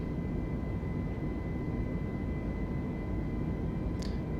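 Airbus A320 climbing after takeoff in Microsoft Flight Simulator 2020, departing Denver: a constant, loud, broadband engine roar with a steady tonal hum, unchanging throughout, and a faint click near the end.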